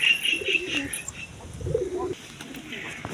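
Pigeons cooing in a coop, a few soft low coos rising and falling close by, with faint chirps and background hiss; a voice murmurs faintly beneath.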